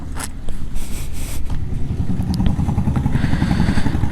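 A Royal Enfield Himalayan BS6 motorcycle idles close by with a steady, low thumping rumble, some faint scraping and clatter over the top and no talk.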